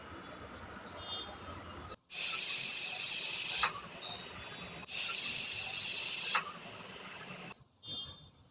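Pressure cooker whistling as steam escapes while peanuts and soaked chana dal cook in water: two loud, sustained hissing bursts of roughly one and a half seconds each, separated by a short quieter gap, over a faint kitchen background.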